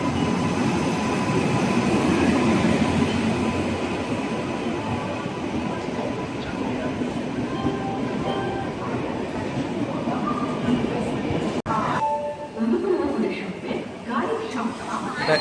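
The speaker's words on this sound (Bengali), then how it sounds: "হাওড়া থেকে জগদ্দলপুর সম্বলেশ্বরী এক্সপ্রেস ঢুকছে" The Howrah–Jagdalpur Samaleswari Express (18005) rumbles steadily close by as it pulls into a station, a broad roar of wheels and carriages, continuous throughout, easing slightly near the end.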